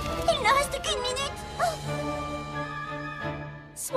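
A cartoon dog lets out a few high yips and whimpering whines, with a voice speaking alongside.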